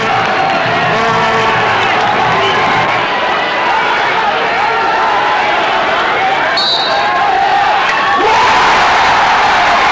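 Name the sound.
Pakistan hockey crowd cheering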